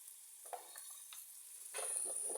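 Diced onions hiss and sizzle in hot oil in a pan, a soft steady frying sound with faint stirring clicks that grows a little louder toward the end.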